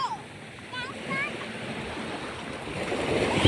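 Sea waves wash onto a sandy beach during a children's seaside trip, a steady broad rush that builds toward the end, with children's voices and chatter faintly above it.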